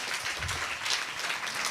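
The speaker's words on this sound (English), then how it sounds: "good round of applause for Team B." Brief, fairly faint applause from the audience at an ophthalmic association quiz event as a winning team is called up, a steady soft patter of clapping.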